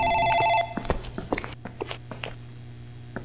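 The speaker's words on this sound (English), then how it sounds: "I think that's the phone in the office ringing." An office telephone in a dark horror video game rings with a bright electronic bell tone for about half a second, then stops, followed by scattered close clicks and footstep-like knocks over a low steady hum.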